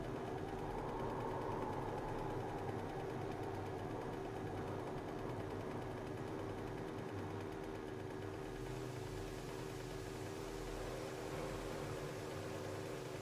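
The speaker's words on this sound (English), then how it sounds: "Is it just like my engine's going bad?" Steady mid-pitched engine drone from a failing, burning motorbike in the zombie survival game 7 Days to Die, running continuously with a slight shift in tone partway through, no talk over it.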